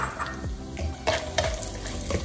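Nuts and raisins sizzle softly in hot fat in a pan for sweet chakkara pongal, with a steady frying hiss and a few scraping stirs of a spoon, close and fairly loud.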